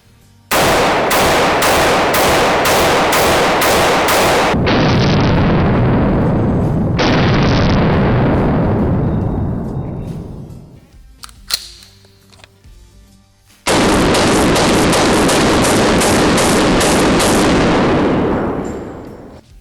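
Rapid semi-automatic fire from an IWI Carmel 5.56 rifle at an outdoor range: loud, close strings of evenly spaced shots, a pause with a fading echo and a brief clatter, then another fast volley.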